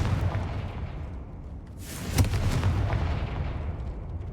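A Confringo fire spell bursts in Hogwarts Legacy: one loud explosive blast at mid-clip spreads into a broad rushing roar, heard over a steady low game rumble with no one speaking.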